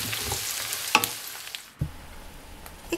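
Sliced carrots sauté in a hot pan with a continuous hissing sizzle, broken by a couple of scraping stirs and small thuds.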